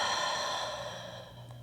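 One long breathy exhale through an open mouth during yoga breathing. It starts fairly strong and slowly fades over about a second and a half, close and alone.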